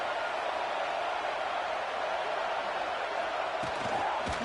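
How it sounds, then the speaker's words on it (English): A stadium crowd at a football game makes a steady, dense roar that holds evenly throughout, with no clear voices standing out above it. "It's early, but this crowd is fired up. Listen to this noise here."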